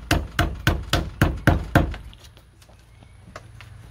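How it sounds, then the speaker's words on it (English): Old chisel struck with a mallet to clean out a pine beam joint, six sharp, evenly spaced knocks in quick succession, close and loud, then quiet room tone with a faint tap. "Now I'm just cleaning it up with this old chisel right here."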